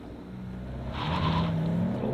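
A 2023 Lexus RX turbo hybrid launches hard from a standstill, its engine note rising steadily in pitch as it pulls away, with a brief tire chirp, heard from inside the cabin, no talking.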